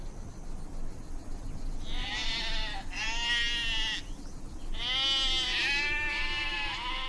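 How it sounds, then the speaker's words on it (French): Several sheep bleat in the arid Alpilles of Provence, their wavering calls rising in two overlapping bursts over steady outdoor background noise, fairly close and clear with no talk. "L'élevage est celui des moutons, seuls capables de supporter le manque d'eau récurrent."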